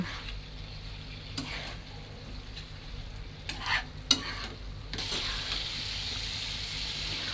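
Raw mango pieces stirred with spices and panch phoron powder for a jaggery mango pickle, a steady close scraping and soft sizzle with a few sharper clanks of the spoon against the pan, no talking.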